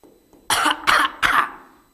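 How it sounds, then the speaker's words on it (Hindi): Three loud, close coughs in quick succession, each a sharp burst with a short gap between, fading at the end. "कितनी खांसी आती है मेरे को।"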